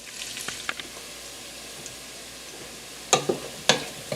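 Onions and cabbage fry in a pan, a quiet steady sizzle punctuated by a few scraping stirs and clicks, louder near the end.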